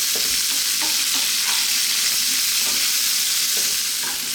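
Beef, onions, garlic and ginger stir-frying in a wok over high heat, a loud continuous sizzle broken by repeated scraping strokes of the spatula, close up and with no talking.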